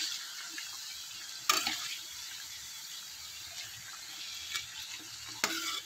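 Sugar-coated sweet potato for kamote cue sizzles and fries steadily in a wok, with a few sharp scrapes and stirring clicks over the continuous hiss.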